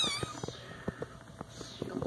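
Cat at an animal shelter giving a high, drawn-out meow at the start, followed by faint, soft mews and scattered rustling and clicks nearby, no talking.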